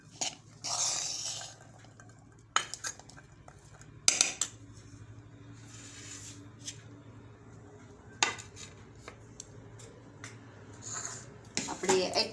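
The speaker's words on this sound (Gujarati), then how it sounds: "હવે આપણે મિક્સ કરી દેવું બધું મિક્સ કરી લેવું" Snack ingredients and chopped coriander stirred together in a metal dish for Gujarati basket puri, with scattered clinks and scrapes of a spoon against the plate, some sharper knocks, and soft background hum.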